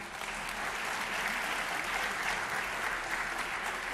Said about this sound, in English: Let's please give her a big round of applause.